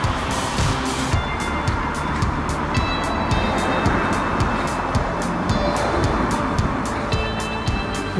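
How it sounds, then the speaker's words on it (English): Morning rush-hour cars pass continuously on a busy road in Perry Barr, a loud steady roar of traffic close by, heard while jogging, with rhythmic rustling footfalls throughout. "Got the morning rush hour, all these cars."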